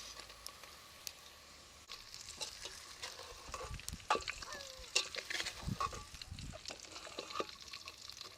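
Eggplant pieces tipped into hot tempering in a pan for perugu vankaya, giving crackling sizzle with sharp pops and spatters, rising louder as the frying settles in and a spoon stirs now and then.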